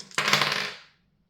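Astrology dice tossed for a reading: a single sharp clatter as the dice land and skitter, fading out within about a second, close and fairly loud with no talking.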